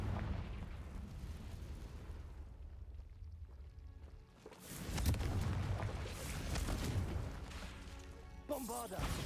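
Fiery Confringo spell blasts in Hogwarts Legacy, a rumbling explosive burst in a fight against poachers, followed by crackling and a second swelling boom near the end.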